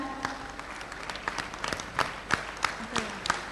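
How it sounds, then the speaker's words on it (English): An audience at a bank officers' association golden jubilee gathering applauds a welcomed guest, with scattered, fairly faint claps heard from a distance in a hall. "Let us welcome him with a very great thunderous clap."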